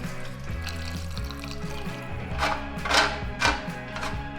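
A petrol and oil mix is poured into the fuel tank of a 1984 Ural chainsaw, a soft, continuous trickling gurgle close up with a couple of louder splashes near the end.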